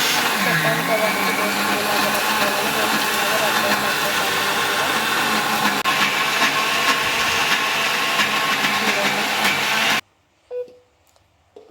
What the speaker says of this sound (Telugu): ఇంకా నేనైతే మిక్సీ పట్టేస్తున్నాను